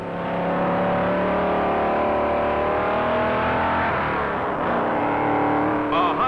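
Pontiac race cars of the 1957 NASCAR event at Daytona Beach roar loudly and steadily, engines droning and shifting pitch as they speed by, with a commentator's voice faintly beneath.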